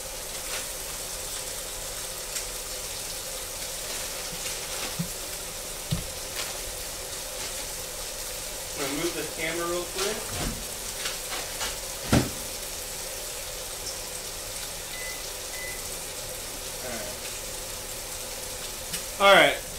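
Mahi mahi fish frying in a pan at home, a steady close sizzle running throughout, with a few clinks and stirring sounds and someone talking briefly over it.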